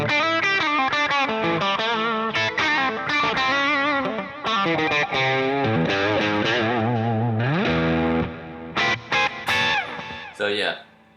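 Electric guitar played through the Fractal Axe-Fx II "Buttery" preset modeled on a Budda amp, a loud, steady stream of busy overdriven notes and bends with a warm chorus-tinged tone, broken by brief pauses near the end.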